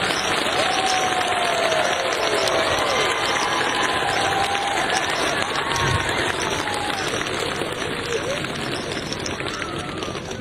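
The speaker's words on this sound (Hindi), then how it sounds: "एक बार खड़े होकर जोरदार तालियों से अमित शाह जी का स्वागत करें" A large crowd at a public event in Tura stands to welcome Amit Shah with loud, dense applause and cheering, a continuous roar that fills the whole stretch with no pauses.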